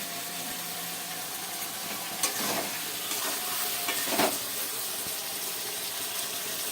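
A paste of white sesame, peanut and green chili sizzles and sautés in a pan for a Bengali vegetarian dish, a steady close hiss with a few louder stirring scrapes.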